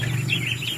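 Ducklings on a farm, about twenty together, give soft, repeated high peeps in a quick rising pattern, close and steady over a low background hum.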